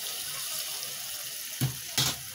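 Water poured for home cooking, a soft running trickle followed by two brief splashing pours near the end.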